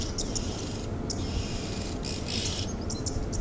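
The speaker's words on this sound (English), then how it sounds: "Chirping away, and I spoke about this morning on the bushwalk and the value of listening to the sounds of the oxpecker" Oxpeckers chirp in the African bush, sending out short, high, repeated calls in scattered bursts over a steady hum of insects and outdoor background noise, with no voices.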